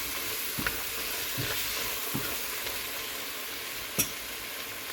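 A crab curry being stirred in a frying pan gives a steady low sizzle, with a few soft scrapes of the spoon against the pan and one sharper clink near the end. No one speaks.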